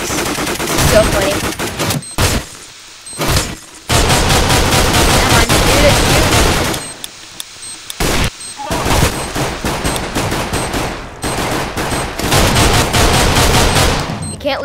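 Dense bursts of automatic gunfire from a Minestrike match, a Counter-Strike-style mode in Minecraft, rattle almost continuously with a few brief gaps, loud and close, with shouted speech mixed in.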